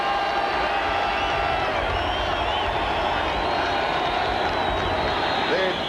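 Crowd noise fills a football stadium as a 1991 Chargers at Seahawks game nears the end of the first quarter, a steady roaring wash of many voices with a cheering swell, heard at a distance beneath a voice talking.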